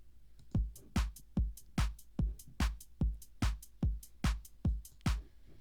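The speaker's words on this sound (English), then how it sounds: "you put the hi-hats between the kicks and the claps on the second kick and the last kick." A basic house drum pattern programmed in FL Studio: steady four-on-the-floor kicks with hi-hats between them and claps on the second and fourth kicks, looping evenly and loud with no voices.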